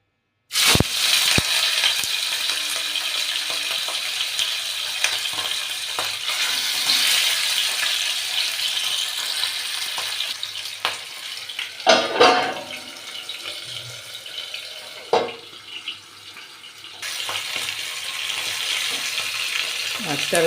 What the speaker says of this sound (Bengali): প্রথমে আমি মাথাটাকে একটু ভেজে নেব